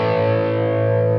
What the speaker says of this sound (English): So now let's blend this more toward the lighter distortion.